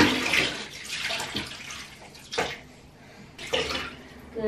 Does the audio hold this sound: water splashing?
yes